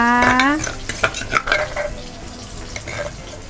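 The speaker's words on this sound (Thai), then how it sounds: "นี่ค่ะ ผัดเลยค่ะท่านผู้ชม" Thai chili paste, nam prik ong, being stir-fried in a pan: a spatula scrapes and clatters against metal in quick, uneven strokes over a faint sizzle, with a brief high voice at the very start.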